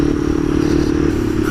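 Honda CB300F motorcycle engine running while riding, a steady loud low rumble with clattering mechanical texture throughout the short stretch.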